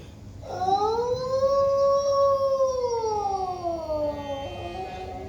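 A single loud, sustained dog-like howl, used as a sound effect during a Hindi stage reading of a Parsai poem in Mumbai, rises and then slowly falls over about five seconds with no talk over it.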